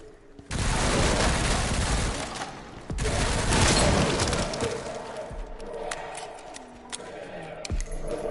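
Bursts of gunfire in the Resident Evil Requiem video game, loud, dense volleys starting early and again mid-clip, then sparser single shots, with a voice briefly talking over it.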